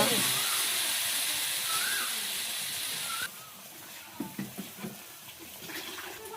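Water is poured into a hot pan while cooking masala hilsa curry, giving a loud steady hiss and rush for about three seconds that then drops to a quiet simmer with faint clatters.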